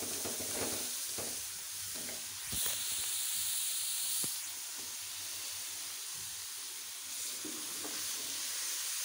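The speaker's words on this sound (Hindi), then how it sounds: "बैंगन भी थोड़े से भूनूंगी" Aubergine pieces frying in a pan with potatoes give a soft, steady sizzle and hiss, with a few brief stirring scrapes and clinks. The sound is faint and close, and no one talks.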